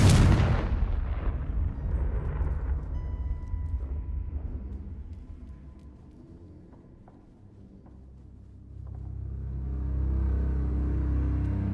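Confringo spell explosion in Hogwarts Legacy, a sharp loud blast that trails into a long fading rumble, followed later by a low swelling ambient drone.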